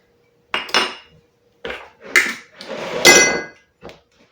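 Salsa ingredients being mixed in a bowl, with a utensil clinking and scraping against the dish in several short, close, irregular bursts separated by pauses.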